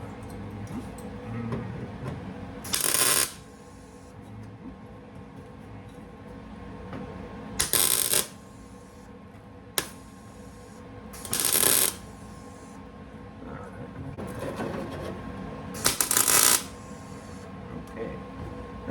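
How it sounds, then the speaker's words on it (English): Short MIG tack welds join a replacement toe board panel on a 1969 Trans Am under rust repair, coming as about five separate crackling bursts spread through a quiet shop background with faint handling noise between them. "getting this all welded into place"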